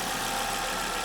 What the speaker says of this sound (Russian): Откуда-то идет скрежет. Но это не мотор.